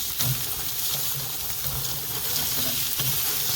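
Large, thick steaks searing on a Chud Box griddle, a close, loud, continuous sizzle with faint crackles throughout.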